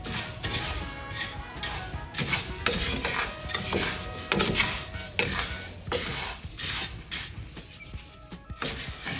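Whole spices for curry powder, including cinnamon, are stirred as they roast in a pan, giving a steady close scraping and rustling with soft rhythmic swells and no talk.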